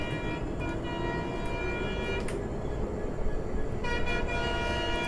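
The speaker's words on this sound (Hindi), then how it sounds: "ये देखो आपको हॉर्न सुनाई दे रहा है ना गाइस" Horn of a Mumbai local train at a level crossing, seen from a station platform, with harmonic blasts sounding near the start and again near the end over steady rumbling rail noise; no talk.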